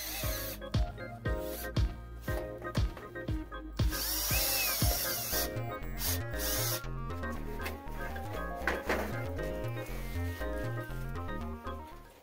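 A power screwdriver runs in a series of short whirring bursts while backing out the small top-panel screws of a Trane XL14i outdoor air-conditioning unit, close and fairly loud, with no talking.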